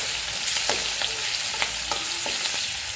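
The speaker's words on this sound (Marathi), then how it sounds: "आणि कांदा थोडासा आपण आहे ना परतून घेऊया" Onions sizzling steadily in hot oil for okra bhaji, with a spoon stirring through them in several short scraping strokes over the continuous fry, close and clear, no talking.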